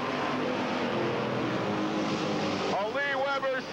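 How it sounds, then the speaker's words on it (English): Race car engines roar together in a steady, loud wash during a racing-group event as a car spins in corner two. An announcer talks over the noise, and a rising engine whine stands out near the end. "Lee Weber spins over in corner number 2, goes all the way around, and Weber stalls in the racing group."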